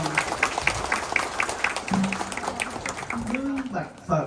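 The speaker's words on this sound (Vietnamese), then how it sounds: "Xin cho một tràng pháo tay thật dài để chúc mừng Phật tử chùa Tam Quan" At a Buddha's Birthday celebration at a Buddhist temple in Michigan, a crowd claps in a fairly regular rhythm while voices speak over the applause.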